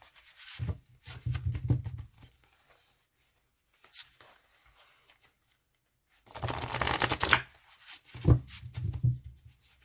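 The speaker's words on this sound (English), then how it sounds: "Let's shuffle this." Tarot cards being shuffled by hand, quiet papery riffles and rubbing in short bursts separated by near silence, close and soft.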